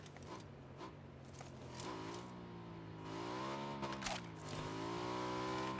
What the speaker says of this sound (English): There's a motorbike behind us.